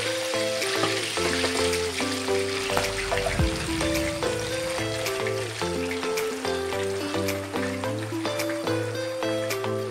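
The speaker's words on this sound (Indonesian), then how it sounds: "Ini untuk menggoreng ayamnya, minyaknya harus betul-betul panas ya." Chicken pieces frying in very hot oil for an Acehnese dish, giving a steady loud sizzle with bursts of bubbling and a few clinks of a utensil, with a low tonal hum running beneath and no talking.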